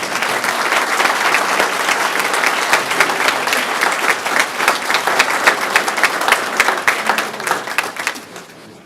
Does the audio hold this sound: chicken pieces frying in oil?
no